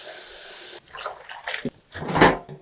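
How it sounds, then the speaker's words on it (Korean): Salted cabbage is rinsed in water, with splashes, sloshing and drips arriving in short uneven bursts after a moment of quiet, close and fairly loud. "그러면은 한번 물에 헹궈 보도록 하겠습니다"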